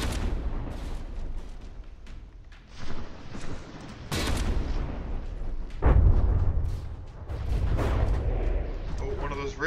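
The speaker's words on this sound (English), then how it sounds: "Yep, that one gun is still firing." Warship guns boom repeatedly in a From the Depths naval battle, with heavy artillery-like blasts and rumbling impacts at uneven intervals, the loudest near the middle, over continuous low battle noise.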